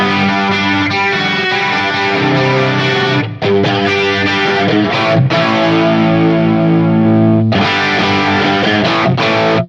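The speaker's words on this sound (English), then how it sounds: "Foot switch number 6 is scene 3, which is chorus and reverb." An electric guitar played through a FAS A8 multi-effect pedal with chorus and reverb, loud sustained chords shimmering and ringing out, with brief gaps between strummed phrases.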